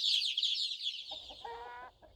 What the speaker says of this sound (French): les 1500 volailles gambadent et caquettent en toute liberté